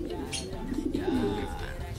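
A blue bar pigeon coos close by, a low soft rolling call rising and falling over two seconds, with faint background noise.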